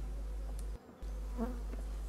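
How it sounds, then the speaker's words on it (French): Honeybees crowd a hive frame with a dense, steady buzzing drone close by, broken by a brief quieter dip partway through. "il y a beaucoup d'abeilles qui tiennent le cadre"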